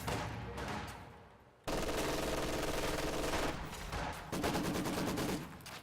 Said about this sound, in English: MG42 engaging against the squads over here on the left side